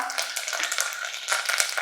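Curry leaves dropped into a hot oil tempering for dahi kadhi, with garlic and chillies already frying, give a loud, dense, continuous close crackling sizzle that carries on with no talking over it.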